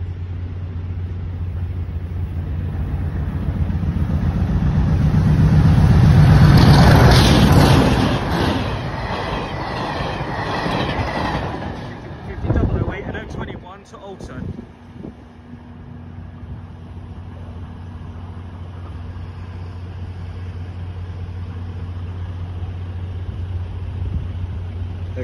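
A train crosses the Liss level crossing, a swelling diesel rumble and rail roar that builds to a loud peak as it passes close by, then clatters and fades, leaving a steady low hum with a high-pitched tone above.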